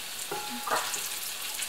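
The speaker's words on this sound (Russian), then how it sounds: "Вкусненькие, у меня тут еще жарится." Zucchini and cheese fritters fry in a pan with a soft, continuous sizzle and crackle, and a brief voice speaks over it.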